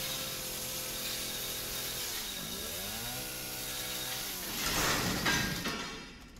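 A chainsaw in the game Resident Evil 7 runs continuously, its pitch dipping and rising as it labors, then roars louder with a harsher burst near the end before fading slightly.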